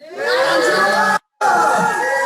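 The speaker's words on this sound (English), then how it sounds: "Everyone just cheer Angela." A crowd cheers for Angela with a sustained, loud wash of voices and shouts, briefly cut off mid-way before resuming.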